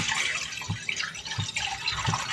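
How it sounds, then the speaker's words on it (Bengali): Milk being poured into a kadai for chhanar payesh, a continuous close liquid splashing and trickling with faint rhythmic thumps, no talk. "দুধ দিয়ে দেব"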